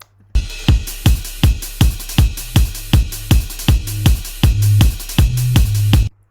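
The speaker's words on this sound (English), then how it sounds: "the main bass sound in the track is it's like a sine wave that's too high pitched" A synth bass plays a pure, sine-like tone in a repeated pattern of about sixteen short, evenly spaced low pulses, loud and clean, alone without talk.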